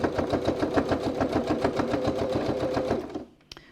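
A sewing machine stitching a cylindrical fabric case runs in a steady fast rhythmic chatter, close and fairly loud, then slows and stops near the end with a final click.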